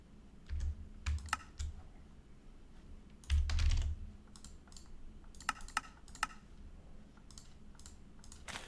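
Keys clatter on a computer keyboard in short bursts of quick typing, separated by pauses, with a couple of heavier thumps like a spacebar or enter key, close and fairly quiet.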